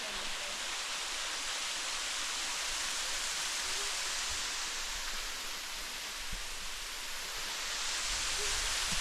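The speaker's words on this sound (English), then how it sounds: "So yeah, here's the waterfall though." Waterfall on Maui, Hawaii, a steady broadband roar of falling water that holds constant and fairly loud throughout, heard up close with no talking over it.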